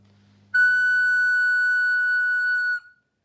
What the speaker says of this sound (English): Here is the F natural.